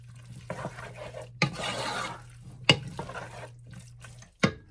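Gnocchi carbonara cooks in a pan over medium heat with soft stirring and scraping, and a few sharp clanks of a utensil against the pan punctuate a low, intermittent sizzle.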